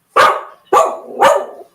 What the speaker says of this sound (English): He's a good doggy.